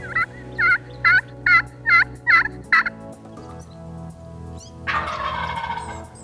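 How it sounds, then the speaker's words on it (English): A wild turkey tom gobbles hard in a loud, close run of about six rapid rattling bursts, followed by fainter, broader calling at the end. "a tom that seemed to be in between hens, not with hens, and was gobbling hard"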